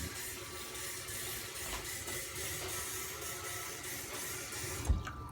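Water streams steadily from a kitchen faucet while a plate is rinsed, a constant close hiss with a brief clunk near the end.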